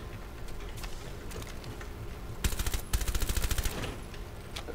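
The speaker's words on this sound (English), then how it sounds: "Man, that shooting is fucking loud." Rapid automatic gunfire in Rainbow Six Siege, a loud burst of machine-gun shots in the middle of the clip, with scattered single shots and game ambience around it.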